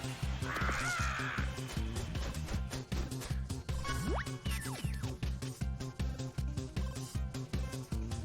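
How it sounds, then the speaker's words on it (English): A crow caws loudly in a short burst early on, over steady rhythmic background music that continues throughout. "Loud bird."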